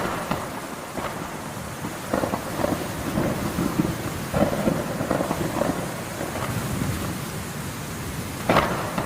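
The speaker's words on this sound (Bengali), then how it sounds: "হঠাৎ করে একদিন জঙ্গলে প্রবল বেগে বৃষ্টি শুরু হয়ে গেল।" Cartoon storm in a jungle: steady heavy rain hisses throughout while several rumbling thunder crashes roll in at intervals, with a sharp burst near the end.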